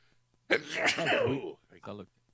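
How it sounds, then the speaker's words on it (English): A single loud sneeze bursts out after a quiet moment, followed by a brief softer vocal sound. "so I gotta sneeze"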